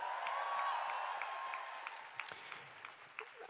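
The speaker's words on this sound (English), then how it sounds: "Can we give them a round of applause?" An audience at a youth festival motivational talk applauds, a fairly faint, steady patter of many hands clapping that thins out toward the end.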